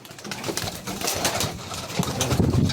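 A flock of pigeons cooing steadily at close range, their low throaty calls overlapping with a busy rustle throughout.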